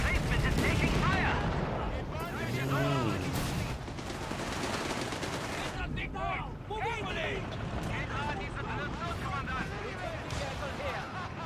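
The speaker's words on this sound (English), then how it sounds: "Forward emplacement is taking fire." Battle gunfire in a Company of Heroes-style strategy game crackles as bursts and sharp reports under near-continuous talking, loudest in the first few seconds and then steady in the background.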